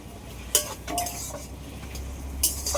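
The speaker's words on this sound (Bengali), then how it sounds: "এবার আমি ভেজে রাখা মাছটা দিয়ে দেবো" Previously fried fish goes into a meat curry in a pan. Spoon clinks and scrapes come in a few short, distinct knocks over a faint, steady simmer, close by and with no talking.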